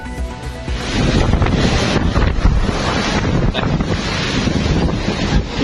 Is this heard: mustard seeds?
no